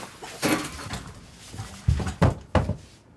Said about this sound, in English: That noise at the door. A knock!